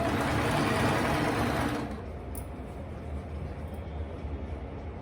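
Sewing machine stitching the edges of a lungi, a steady close motor whir that drops to a softer, lower running hum after about two seconds and carries on to the end.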